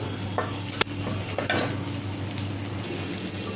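Onions with a light sprinkle of panch phoron spice mix fry in hot oil, a steady low sizzle broken by a couple of sharp stirring scrapes near the start.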